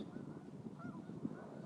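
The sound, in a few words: birds honking at a bird sanctuary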